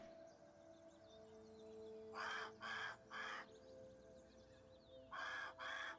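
A large bird calls in the Grounded survival video game, heard up close as two bursts of loud, raspy cawing cries, first a triple then a double, over a quiet ambient game soundscape.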